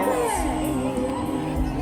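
A provincial crowd from Tacloban shouts and cheers during a parade of banners at an anniversary event, a dense, loud, sustained roar of many voices close by.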